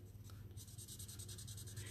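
Blending markers stroking across the paper of a handmade card, a soft rhythmic scratching of back-and-forth coloring, faint and close over a low background hum.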